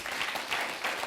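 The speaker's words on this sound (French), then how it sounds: "On va l'applaudir." A studio audience on a lively Burkinabé television entertainment show claps steadily to welcome a guest named Omar, the applause dense and continuous for about a second.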